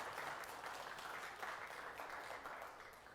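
A church congregation applauds during a Sunday service, a steady, moderately quiet wash of many hands clapping that holds for a few seconds and tapers slightly at the end.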